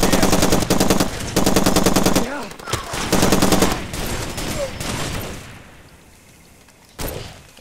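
Rapid sniper and automatic gunfire from the video game Far Cry 2, dense bursts of shots rattling for a couple of seconds, a pause, then more volleys that thin into scattered reports and a final burst.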